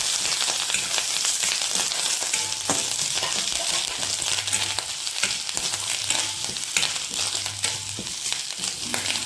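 Grated coconut and curry leaves fry in a pan over a low flame, giving a steady, loud, close sizzle that runs throughout while the mixture is stirred, with no talking.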